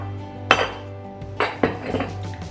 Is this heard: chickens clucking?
no